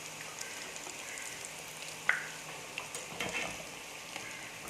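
Banana cutlets fry in a fast-heating pan with a faint, soft crackle, and a few light scraping and tapping knocks come through as pieces are turned.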